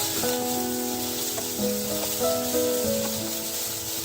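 Paneer being mixed with a pinch of salt and white pepper powder in a hot pan over reduced flame, giving a steady close sizzle with soft scraping and shuffling, with no talking.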